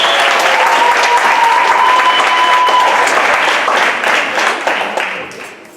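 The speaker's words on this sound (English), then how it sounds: "Let's give Pastor Hans a big round of applause" An audience claps for a pastor being welcomed on stage: loud, dense applause that holds steady, then tapers off near the end.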